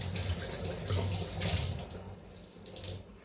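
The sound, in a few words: tap water wetting a cotton cloth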